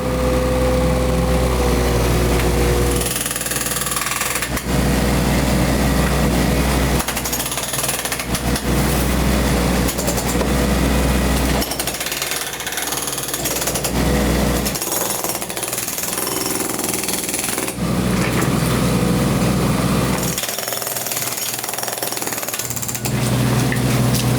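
An excavator works inside an old stone house in the mountains, a loud, continuous engine drone with harsh pounding and scraping bursts that stop and restart, close by with no speech.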